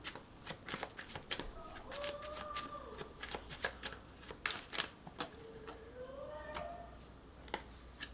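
Tarot cards shuffled and dealt in a quiet room, a steady run of crisp snapping and riffling flicks, close and fairly soft, with faint tonal whistles drifting underneath.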